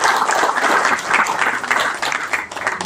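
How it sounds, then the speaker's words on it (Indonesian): Audience applause at an evening gathering of a Setia Hati martial-arts brotherhood, a dense, even wash of many hands clapping close by, steady throughout with a slight dip near the end. "Tepuk tangan dulu dong buat Mas Irfan"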